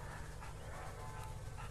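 A police dog pants steadily at close range, with quick rhythmic breaths over a constant low background hum and no talking.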